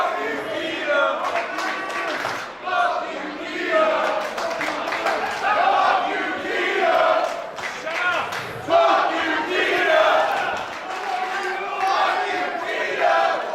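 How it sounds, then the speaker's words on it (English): A wrestling crowd at a Relentless Wrestling event chants in loud, rhythmic waves, many voices rising and falling together across the arena, with some scattered clapping and shouts. "when the crowd is talking like this"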